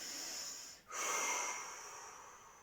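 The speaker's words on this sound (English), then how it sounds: "deep breath out" A deep exhale during an exercise session, a close, breathy rush of air that starts abruptly after a brief pause and gradually tapers off.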